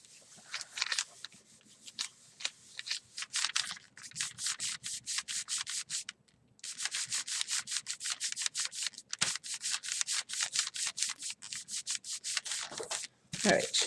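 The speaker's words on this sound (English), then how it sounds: "Burnishing, burnishing, burnishing." Paper being burnished by hand onto a gelli printing plate gives rapid, rhythmic rubbing strokes, close and steady, with a brief pause midway and no talking.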